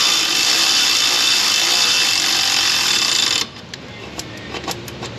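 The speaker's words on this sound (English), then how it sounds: "final torque with the torque wrench" Power tool loudly driving bolts on an LB7 Duramax engine, a sustained high-pitched whir that cuts off abruptly, followed by a few faint ratcheting clicks of a torque wrench.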